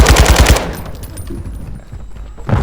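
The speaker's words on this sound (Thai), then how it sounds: "ยิงให้สุดไป ยิงให้หมดแม็กไปเลย" An RPK machine gun fires in Call of Duty Warzone 2, a loud close burst of rapid shots for about half a second. Game noise and a tail of echo follow, then more firing starts at the end.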